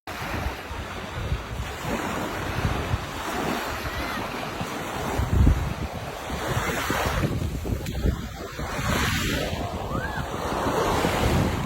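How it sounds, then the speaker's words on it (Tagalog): Steady roar of ocean surf at Subic, Philippines, with waves washing in continuously, mixed with gusts of wind buffeting the microphone. "ang sarap pakinggan ng alon ng dagat."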